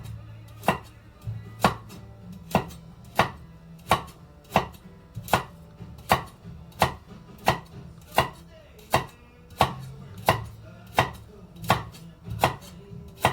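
A knife tip chops carrots on a cutting board with about sixteen crisp, evenly spaced knocks, near and clear, and no talking.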